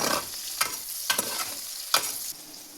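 Sliced onions fry in a pan as the base for a murrel fish curry. A steady sizzle is broken by several sharp scrapes of stirring, close and moderately loud, with no voices.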